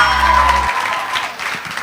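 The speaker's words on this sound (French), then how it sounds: "on applaudit." An audience at a school quiz contest on malaria breaks into brief, lively applause, a dense patter of many hands following a short musical sting.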